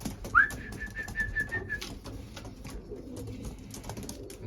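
Racing pigeons in a loft give a single rising whistle-like call near the start, over a low background murmur of birds and faint rustling.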